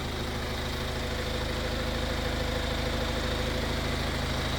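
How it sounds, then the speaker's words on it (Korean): The diesel engine of a 2015 Kia Carnival idles steadily up close, a rumbling, evenly pulsing drone that holds throughout with no voices. "어디 막힘없이 시동이 걸립니다. 막힘없이 힘차게 울립니다."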